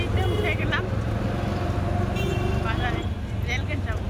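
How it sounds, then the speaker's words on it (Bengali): Ride in a CNG auto-rickshaw heading to the bazaar, the engine's steady low drone and road noise continuous, with voices talking throughout. "একটা সিএনজিতে উঠে গেলাম"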